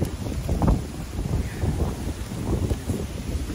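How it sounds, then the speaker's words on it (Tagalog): Strong storm wind gusting during a typhoon, a rough, low buffeting roar with wind noise hitting the microphone, steady and loud throughout with no talking. "Lakas ng hangin dahil."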